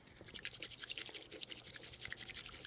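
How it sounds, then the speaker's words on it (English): Bamboo whisk frothing matcha tea in a bowl, a quick rhythmic series of soft wet brushing strokes, close and quiet, with no talking. "Whisk it like this."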